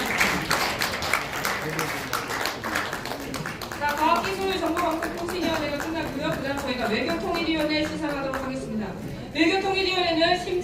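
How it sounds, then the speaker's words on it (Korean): An audience at an award ceremony claps in a steady patter that thins out over several seconds, while voices talk over it and grow clearer as the clapping fades. "여러분 큰 박수로 축하해 주 바랍니다"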